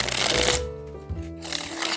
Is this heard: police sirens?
no